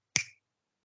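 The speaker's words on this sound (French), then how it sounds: "un petit claquement de doigts pour ancrer cette invisibilité" A single crisp finger snap, close and clear, ringing briefly before falling to silence.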